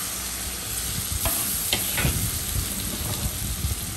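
Tomato and garlic paste sizzles steadily in hot oil for a Bengali chital fish curry, a close, continuous frying hiss with a few soft stirring scrapes and no voices.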